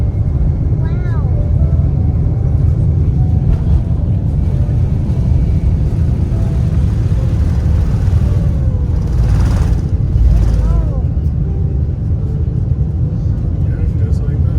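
Inside an airplane cabin during takeoff, a loud, steady low engine rumble fills the whole stretch while people talk over it.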